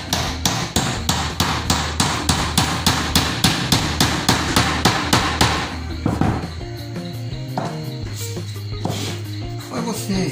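A hammer drives a nail into wood while making a bird from a broom handle, with about fifteen quick, evenly spaced sharp strikes, followed by softer irregular taps and handling noise.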